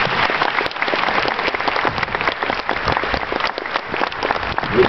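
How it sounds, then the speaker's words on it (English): A crowd at the closing ceremonies of the Pysanka festival applauds its volunteers and committees, loud, dense clapping that continues steadily with a lively, crackling texture. "The executive, the special committees, and all the volunteers certainly deserve the applause"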